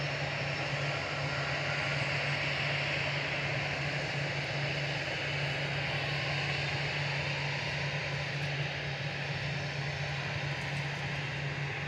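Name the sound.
EasyJet Airbus A320 departing for Malta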